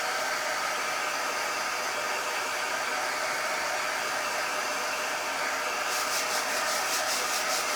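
A hair dryer blows steadily on freshly black-painted craft beads, a loud continuous airy whoosh held close throughout, with a faint fluttering change near the end and no talking.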